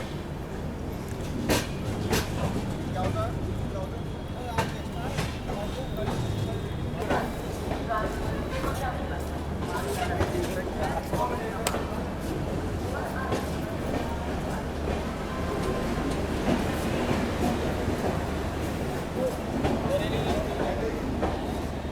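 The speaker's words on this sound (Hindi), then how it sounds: "ट्रेन हमारी मुरादाबाद जंक्शन पहुंचने वाली है बिल्कुल डॉट" Shramjeevi Express passenger train running toward Moradabad Junction, a steady rumble of wheels on track with intermittent clicks and clanks from inside the carriage, with voices talking over the noise throughout.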